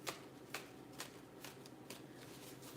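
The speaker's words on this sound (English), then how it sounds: "I'm gonna have to shuffle this deck differently." A tarot card deck is shuffled in a steady rhythm, with soft riffling bursts repeating about every half second, close and fairly quiet, with no talking.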